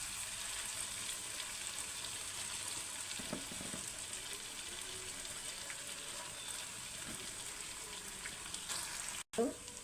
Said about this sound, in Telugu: ఇప్పుడు ముందుగా ఉడకపెట్టుకున్నటువంటి నూడిల్స్ వేసేద్దామండి.